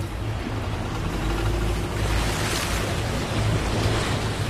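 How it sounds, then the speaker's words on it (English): A vehicle pushes through a fast-flowing river stream about two and a half feet deep, with continuous rushing water and a low engine rumble that swell slightly midway. No voices. "We get into the middle of this fast-flowing stream at 2'6" of water"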